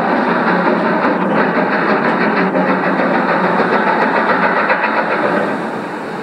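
A diesel hydraulic train on the Somerset & Dorset Railway rumbles past with a steady, loud engine drone and rolling wheel noise, easing slightly at the end, with no voices.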